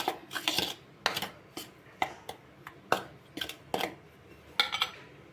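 A spoon scrapes and taps against a bowl while powdered milk is mixed into puffed rice powder, giving a series of sharp, close clinks at an irregular rhythm with quiet gaps between them.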